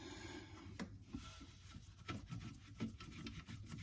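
A long toilet seat bolt being loosened: quiet rubbing and rasping squeaks in short irregular bursts, close by and faint, with no talking.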